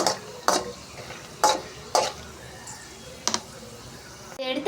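Semolina roasting for kesari in a pan, with a spoon scraping and stirring in several distinct strokes against the metal and a light dry sizzle beneath; a voice talks briefly.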